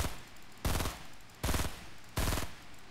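Three loud bursts of Fortnite gunfire, each a short rapid volley roughly half a second long, spaced apart with quieter game ambience between.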